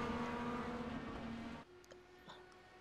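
IndyCar race cars in a sim racing game at Interlagos drag racing down to the start-finish line, a loud sustained engine drone that cuts off abruptly partway, leaving faint distant engine noise.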